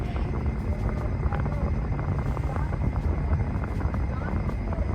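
A helicopter drones steadily overhead, a constant loud rotor rumble with faint voices in the background.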